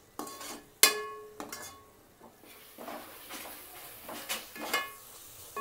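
Masala and yogurt frying in oil in a pan for Hyderabadi egg dum biryani, with a spoon scraping and stirring in irregular strokes and a couple of sharp metal clinks over a soft sizzle.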